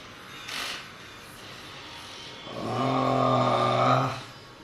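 A handheld massage gun switched on with a long button press: a short click, then a low, steady motor buzz that holds for about a second and a half before cutting off.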